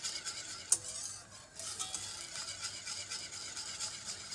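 A sauce for a quick fish gratin is stirred in a pan as it cooks: soft, steady scraping and swishing over a faint sizzle, with one sharp clink near the start and no voices.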